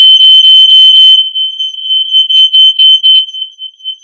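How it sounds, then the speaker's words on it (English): A hardwired home smoke alarm shrieks during a weekly button test, a loud piercing tone pulsing in rapid bursts, then holding as a steady squeal before breaking into short beeps again. "we recommend that you test your smoke alarm once a week"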